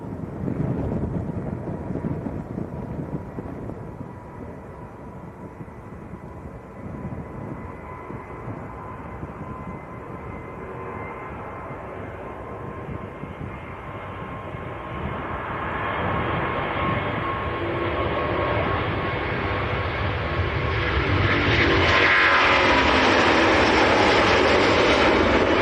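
A Qatar Airways Airbus A350, registration ending Alpha November Lima, bound for Doha at Manchester Airport gives a broad, steady jet roar that builds in loudness toward the end, with wind buffeting the microphone.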